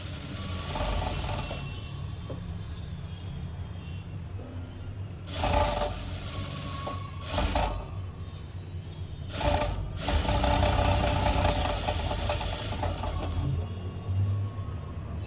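Sewing machine stitching fabric for a side fitting, a steady close mechanical whir running throughout, with several louder surges of faster stitching.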